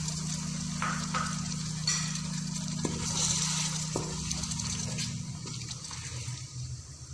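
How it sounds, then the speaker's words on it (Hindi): Water poured into a pan of cauliflower and meat curry with browned spices, a steady close splashing stream over a constant stove hum, thinning out toward the end. "जी तो अब आप इसमें थोड़ा सा पानी ऐड करें ताकि मसाले जले नहीं।"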